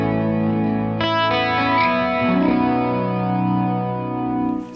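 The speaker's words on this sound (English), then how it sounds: "that's where the delay comes in, where I slide away and that delay has that effect" An electric guitar chord rings out through a delay effect. A sharp strum enters about a second in, and its notes repeat and trail off in shimmering, sustained echoes for several seconds, with no voices.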